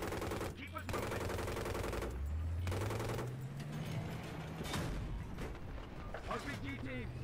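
Tank coaxial machine gun in Battlefield 3 fires in long, loud sustained bursts with a brief gap, over rumbling engine noise and battlefield clamor, with shouted game dialogue in between.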